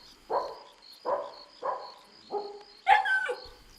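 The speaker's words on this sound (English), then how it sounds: "The dog's barking became ferocious before abruptly ending in a yelp" A dog lets out four sharp, aggressive barks at a steady rhythm, then a higher, strained yelp that breaks off abruptly; fairly close and alone, with no talk.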